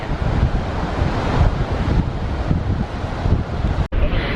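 Gullfoss waterfall in Iceland gives off a loud, continuous broadband roar of falling water, mixed with heavy wind buffeting on the microphone and a brief dropout near the end.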